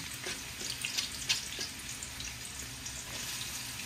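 Sliced onion, one large onion, hits hot sesame oil in a pan for peanut noodles, giving a steady close sizzle with a few brief spikes as the pieces settle.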